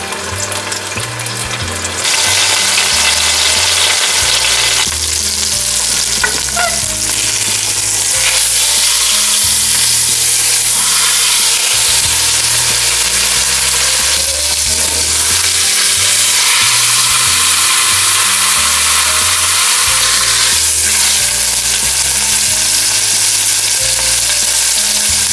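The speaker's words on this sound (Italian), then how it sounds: "E questa la faccio rosolare prima su un lato e poi sull'altro." Steady, loud sizzling of pork loin searing in a hot pan, continuous and close, with occasional stirring and scraping noises.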